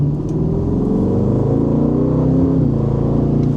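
A sports car engine revs steadily and loudly, a deep throaty roar that holds and swells slightly throughout, with no other sounds.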